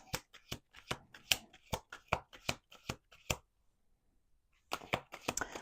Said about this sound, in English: Do two more shuffles.